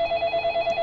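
A telephone rings in the video game Façade, a steady electronic tone pulsing in a regular rhythm that is fairly loud and close, with no voices over it.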